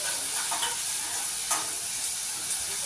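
Tomatoes frying in a pan while cooking an egg dish, giving a steady close sizzle with occasional stirring scrapes, alone with no voices.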